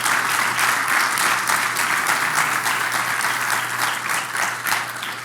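A church congregation breaks into sustained, dense applause during a sermon, a steady wash of many hands clapping throughout, fairly loud and close, with no talking over it.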